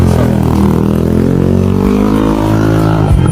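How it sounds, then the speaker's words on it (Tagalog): A Honda Click v2 scooter fitted with an aftermarket 51mm canister muffler idles and revs steadily, a loud close exhaust drone with rising and falling harmonics and a brief dip near the end. "Nagkabit po pala tayo ng aftermarket na muffler dito sa Honda Click version 2"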